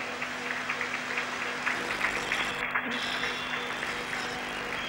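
A stadium crowd applauds a substitution during the 1980 European Championship football match between West Germany and the Netherlands, a steady, distant wash of clapping and crowd noise throughout.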